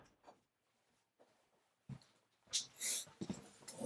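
Dogs moving about in a room, with soft snorts, breathing and faint whimpers, followed by louder, closer scuffling and a brief sharp burst near the end.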